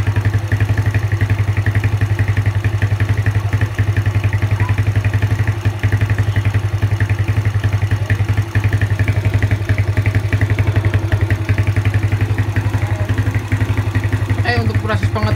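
Yamaha Jupiter Z motorcycle engine idling steadily at normal idle after valve adjustment for lost compression, a loud continuous low thrum with light mechanical clatter throughout, no talk.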